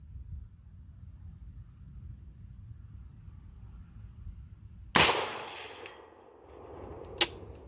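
A single 5.56 green tip penetrator rifle round fires at a steel target 200 yards away, a sharp loud crack over steady insect buzz, followed by a decaying rumble and a faint distant metallic ping about two seconds later.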